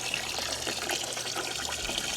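Water runs steadily from a tap while a homemade yellow jacket trap is filled, a continuous splashing gush close by with no speech over it.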